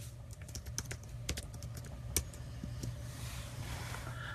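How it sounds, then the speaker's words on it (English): Someone types on a computer keyboard, an irregular run of sharp, close key clicks with brief pauses, against low background hum and no speech. "Here, I'll type it in."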